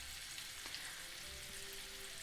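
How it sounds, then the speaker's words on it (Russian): Carp frying in oil on maximum heat, giving a steady, dense sizzle with a faint crackle and no voices, held evenly throughout. "Сейчас у меня рыба жарится на максимальном огне."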